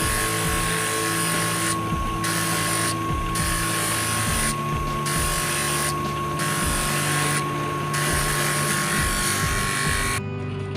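A small power tool sands a coconut shell ring with a steady, buzzing whine that drops out briefly several times at regular intervals and runs close and continuous throughout.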